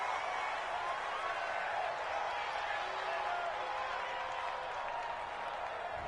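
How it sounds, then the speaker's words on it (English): A home crowd in a PS4 American football video game cheers a referee's call, a sustained, broad roar of applause and crowd noise holding steady throughout with a commentator's voice faintly underneath. "This home crowd, they're happy with that call."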